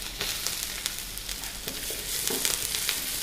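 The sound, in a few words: ginger and garlic pieces frying in smoking oil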